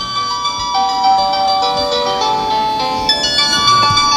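A CSHope wireless doorbell plays an alternate chime melody, a short, bright bell-like tune of stepping tones that sounds close and steady throughout.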